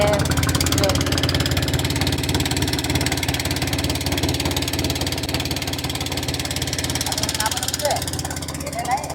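A boat's steady engine drone runs throughout at constant loudness, with voices talking over the rumble, on a boat ride in Varanasi.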